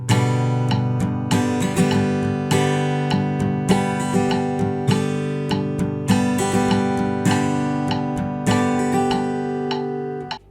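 Acoustic guitar strummed in a steady pattern at 100 beats per minute, bright chord strokes with sharp repeated attacks in a regular rhythm for about ten seconds, close and alone without talk.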